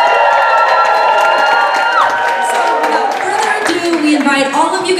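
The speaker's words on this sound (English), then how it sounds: "please snap and cheer if you are excited to see the show" High school audience at a Berkeley monologues show cheering and whooping in a loud burst, with scattered shouts and snaps over a lively crowd.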